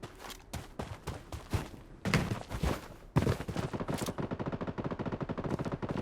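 Rapid gunfire in the shooter video game Blood Strike, loud bursts of sharp shots with thuds, ending in a fast steady machine-gun stream.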